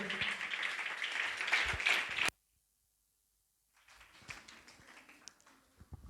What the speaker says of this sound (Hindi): प्रभु दास के लिए जोरदार ताली बजाएं सभी लोग